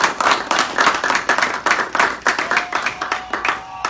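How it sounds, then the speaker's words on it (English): Applause from an audience at an automotive sales motivational event comes as close, rhythmic clapping, loud and fairly steady, without talk over it. "Let's give him a big round of applause."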